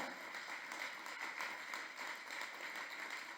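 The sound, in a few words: applause for the Lord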